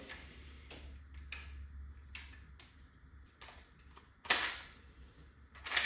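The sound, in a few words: rattling of locked follower in Valken M17 airsoft magazine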